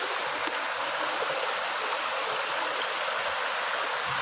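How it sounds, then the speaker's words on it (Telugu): Steady flowing water from a perennial spring, a continuous bright rush like a small stream, constant and fairly close with no talking. "ఈ ప్రదేశం 365 రోజులు 365 డేస్ ఎప్పుడు వాటర్ ఊరుతూనే ఉంటాయి."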